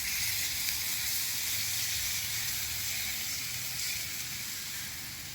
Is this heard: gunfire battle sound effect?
no